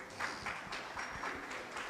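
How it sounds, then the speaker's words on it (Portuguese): Church congregation clapping together as the service moves on, a quick steady rhythm of overlapping handclaps at moderate volume, slightly distant and roomy, with no speech over it. "A igreja pode se assentar, aplaudindo a Jesus"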